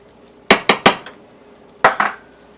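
A spoon clinks against a mixing bowl as cornmeal and chili powder are stirred into a tamale pie mixture, five sharp close knocks in two quick bursts with quiet between.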